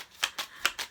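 A deck of tarot cards being shuffled, four quick riffling bursts in about a second, close and crisp with no voice over them.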